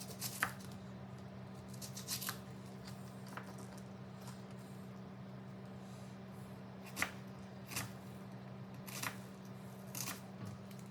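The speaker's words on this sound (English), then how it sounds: "Finely chop 1 medium onion." A knife chopping a medium onion on a board, with a few sharp, separate taps spread irregularly over a quiet, faint background hum.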